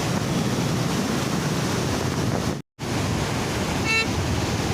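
Water rushes from the opened gates of Khadakwasla dam after heavy July rains, a dense, steady roar that stays loud throughout and cuts out briefly once.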